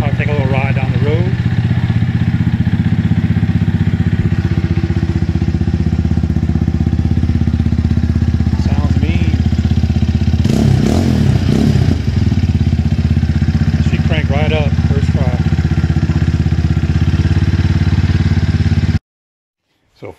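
Venom X22R 250 motorcycle engine running steadily through heat cycles after assembly, a close, continuous idle with a brief clattering burst midway and occasional speech over it before it cuts off near the end.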